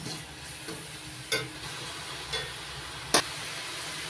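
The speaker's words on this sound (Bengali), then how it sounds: "মশলাটা ভালো করে কষিয়ে নিচ্ছি।" Spices with turmeric and chilli powder are stir-fried in a pan, giving a steady close sizzle with a few sharp scraping clinks of the spatula against the pan.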